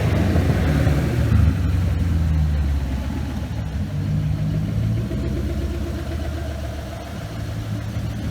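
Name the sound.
2005 Ford Mustang with Coyote engine swap running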